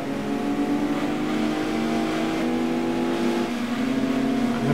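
Gran Turismo 2 racing car engine downshifting, a steady loud revving drone that sweeps through pitch changes as gears drop, near and with no talk.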